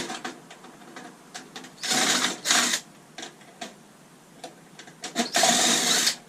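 Power screwdriver whirring in short, loud bursts while undoing screws on scrapped e-waste, with quieter clicks and handling noise between the runs.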